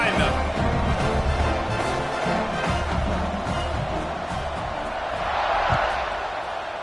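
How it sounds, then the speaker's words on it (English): A football stadium crowd at a Tennessee versus Utah college game roars at kickoff, a dense, continuous wash of cheering with a commentator talking over it. "They're set to kick it off, and this crowd now ready to get behind them."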